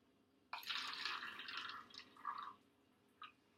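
Warm tap water pours into a foam cup in one short, quiet splashing stream lasting about two seconds, followed by a faint trickle and a final drip. No one speaks.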